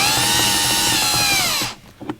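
A power drill whines at high speed for about a second and a half while removing screws inside a 2005 Mini Cooper S, winds down, then a faint tap follows.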